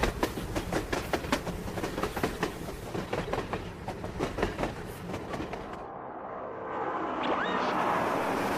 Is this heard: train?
yes